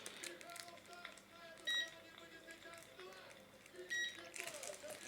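Two short, clear beeps from the control panel of an electric fireplace, spaced a couple of seconds apart, over quiet background noise and handling sounds.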